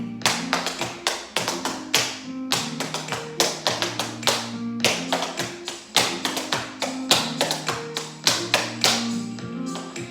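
Quick intermediate tap dance riffs travelling across the floor, with shoes striking a hard floor in rapid bursts of clicks and heel thumps, steady and close, with no talking.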